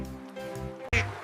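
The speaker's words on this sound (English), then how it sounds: "It's a duck." A duck quacks twice in quick succession, close and clear, as a short animal-sound example.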